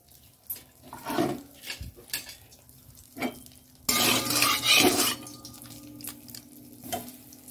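Boiled eggs drop into hot oil in a wok and fry, giving a steady close sizzle that swells loudly partway through, with scattered clinks and stirring scrapes of a utensil against the pan.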